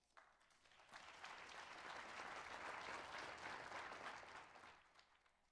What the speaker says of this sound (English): expressing congratulations and sincere gratitude with big smiles, applause, and even, yes, fist pumps for 2025 Silver Circle honoree, Pat Hastings